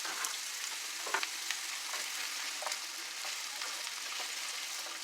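Onions with garlic, dill and fresh ground pepper sautéing in a pot, giving a steady close sizzle with faint scattered stirring clicks throughout.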